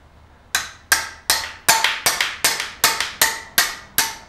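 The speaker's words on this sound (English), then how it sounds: "I don't know why, but I usually go for the hammer." A hammer strikes metal about a dozen times in a steady rhythm during a car transmission rebuild, each blow sharp and ringing briefly, close and loud.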